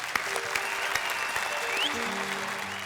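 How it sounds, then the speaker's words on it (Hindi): A studio audience at a Hindi poetry comedy show claps steadily, with a continuous wash of applause and faint musical tones underneath. "ताली बजाओ जरा इनके लिए, ताली बजाइए"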